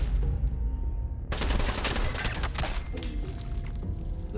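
Gunfire in a shooter video game cracks out as a loud burst of rapid shots after a low rumbling lead-in, then fades into lingering echoes and background noise.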